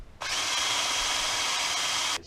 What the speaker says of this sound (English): It's just drilling like butter with this expensive drill bit.